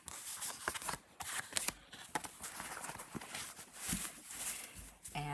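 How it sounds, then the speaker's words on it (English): A tarot deck of watercolor-paper cardstock is riffle shuffled up close, giving bursts of dense papery flutter and soft card slaps in an uneven rhythm, with a voice talking over parts of it. "I really enjoy riffle shuffling it. It has just the most lovely like paper, watercolor paper type cardstock."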